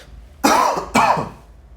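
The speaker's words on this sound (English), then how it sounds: "trademark cough at this point" Two distinct coughs from a man lecturing, spaced about half a second apart, close and fairly loud, with no talking around them.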